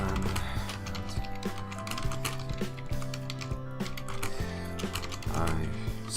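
Keys clatter in quick, irregular bursts as someone types on a computer keyboard during a Mario Teaches Typing game, with music-like tonal sounds running underneath throughout.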